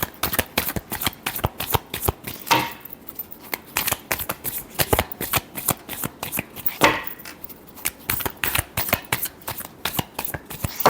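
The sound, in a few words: shuffling tarot cards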